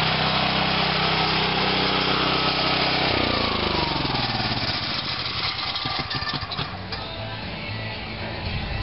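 A small engine runs loud and steady, then winds down after a few seconds as it is shut off, its tone sliding lower and breaking into sputtering before fading, with no talk over it.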